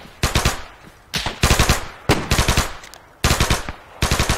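Loud, close automatic gunfire in ArmA 3 arrives in four rapid bursts, each a quick string of sharp cracks separated by brief pauses.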